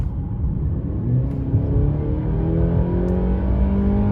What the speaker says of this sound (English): on this straight stretch here, I'm going to punch it. Now watch how long it takes.